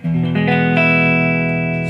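A 2014 Gibson Les Paul Standard on the neck pickup, volume rolled down, with a warm, overdriven tone plays a few notes that build into a sustained chord, heard alone and close.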